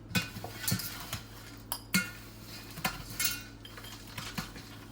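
A small bowl scooping and measuring a dry fruit mix for mevapak in a home kitchen, giving soft scattered clinks and rattles with brief pauses between scoops, fairly quiet and close.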